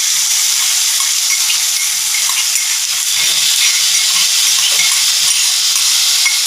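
Green chili and crushed garlic sizzle loudly in a pan with browned onions, a steady dense frying hiss lasting throughout with faint pops, close and continuous with no talking.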